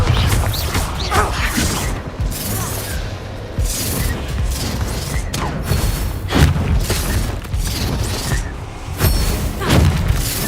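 Blasting spell explosions from a wizard duel in the video game Hogwarts Legacy: several loud booming bursts erupt amid a dense, continuous mix of game combat effects and music.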